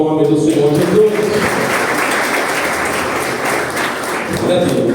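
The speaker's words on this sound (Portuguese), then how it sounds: "Então dê um aplauso ao nome do Senhor Jesus." A congregation at a Pentecostal celebration service applauds in praise, with broad, steady clapping across the room. Music or voices fade underneath at the start, and the clapping stays moderately loud throughout.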